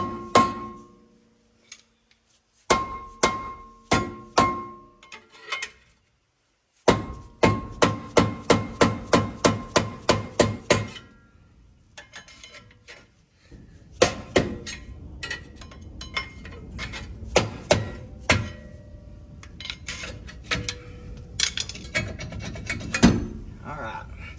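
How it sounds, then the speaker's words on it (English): A soft hammer strikes a stuck rear brake rotor on a 2007 Ford Sport Trac in repeated sharp metallic knocks in quick bursts, followed by scraping and clinking of metal parts, close up with no talking. "That's why I'm using a soft hammer."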